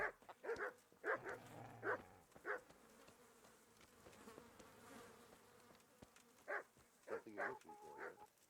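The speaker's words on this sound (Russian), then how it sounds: "Собаки, что вы делаете?" Dogs bark in short bursts in Kingdom Come: Deliverance, a flurry at the start and another near the end, with a buzzing, droning background and a quieter stretch between.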